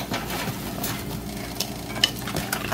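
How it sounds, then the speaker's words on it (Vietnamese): Cake batter frying in hot oil in a home kitchen, a steady close sizzle and bubbling with occasional light stirring or utensil clicks, no talking. "Tiếp tục chiên."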